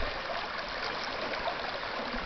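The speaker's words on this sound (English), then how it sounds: "Still some nice running water. Some pretty little streams running through these soft rocks." Stream of running water trickling over soft rocks in a desert canyon, a close, even rushing babble that stays constant throughout, with no one speaking.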